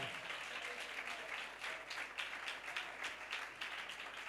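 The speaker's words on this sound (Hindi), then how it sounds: "जोरदार तालियां उस कपल के लिए बजा दें।" A church congregation gives dense, sustained applause for a couple during a sermon, steady clapping heard at moderate distance.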